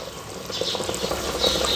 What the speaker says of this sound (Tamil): குழம்பு சூப்பராக கொதி வந்துருச்சுங்க.